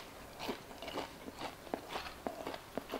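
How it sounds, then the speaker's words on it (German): Crunchy breaded Iglo Knusper fish is bitten and chewed up close, giving a steady run of crisp crunches about every third of a second, with no talk. "Das knuspert, das hört ihr, denke ich mal,"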